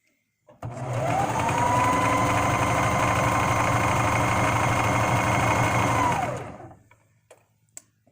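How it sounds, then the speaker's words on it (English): A serger sewing machine stitching fabric revs up quickly and runs as a loud, continuous buzzing hum for several seconds, then winds down and stops, followed by a few faint clicks. "I am using a serger stitch."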